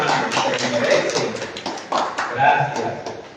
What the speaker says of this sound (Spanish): este aplauso para ustedes, hermanos, se lo merecen